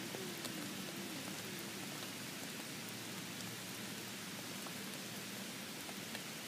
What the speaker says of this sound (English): It's raining, it's raining, it's raining